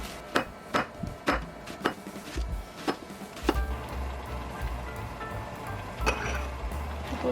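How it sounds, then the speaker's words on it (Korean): A sharp knife slices an onion on a board, several quick cuts in an irregular rhythm, close up, followed by quieter clatter and low background noise. "양파도 썰으려고요"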